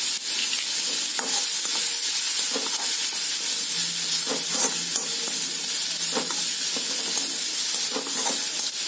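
Masala sautéing in a pan for banana stem rice gives a steady, loud frying sizzle with soft stirring scrapes, continuous throughout with no voices.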